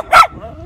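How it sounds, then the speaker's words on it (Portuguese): A small dog gives a single sharp bark at a campsite while travelling with a tent, loud and close, followed by quiet background murmur. "Viajando com um cachorrinho."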